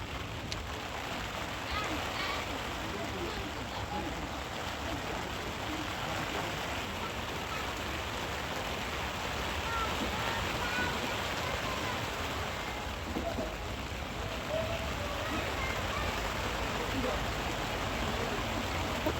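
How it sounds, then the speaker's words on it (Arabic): Constant dense rain hissing and pattering on tents in Gaza, along with cold gusting wind, steady and enveloping throughout, with no pauses. "شايفين هاي الهواء كيف هواء وبرد ومطر"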